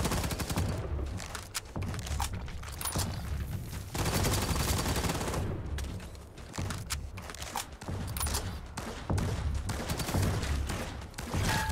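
Rapid bursts of automatic gunfire from a sci-fi shooter game, Firefall, crackling loud and dense in several long volleys separated by brief lulls, with no talk over them.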